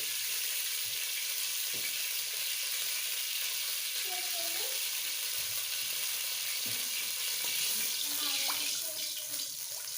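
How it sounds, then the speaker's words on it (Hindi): Ghee heating in a pan gives a steady, close sizzle with a constant hiss throughout, while faint clinks and soft background noises drift in now and then. "थोड़ी देर घी को पका लेते हैं"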